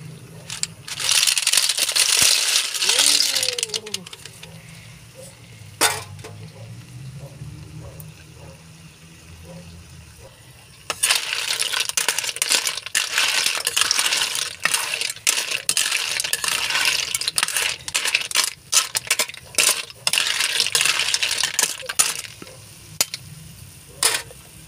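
Snail shells (kuhol) tumble into a pot for ginataang kuhol with kangkong, rattling and clattering over a hiss of cooking; two bursts of sharp clinks and scraping stir, separated by a quieter simmering stretch, close and fairly loud.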